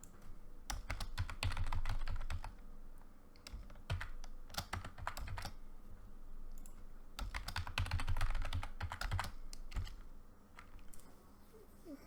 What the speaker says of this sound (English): Okay, so I put the password in, press Control Alt and Insert